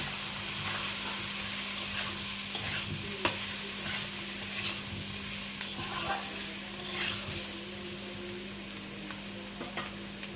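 Crab masala with coriander powder is stirred in a pan, giving a continuous moderate sizzle with scattered soft scrapes and a steady low hum underneath, close by and without speech.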